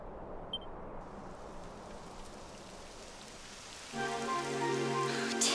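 Steady rain falls in the Dragon Quest XI video game as an even hiss, joined after a few seconds by a tonal musical swell layered over it, with no talking.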